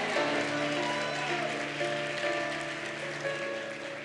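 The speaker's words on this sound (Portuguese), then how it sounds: "aplauda bem forte o nome do Senhor" A church congregation applauds loudly and steadily at a Sunday evening service, with sustained musical chords ringing underneath the clapping.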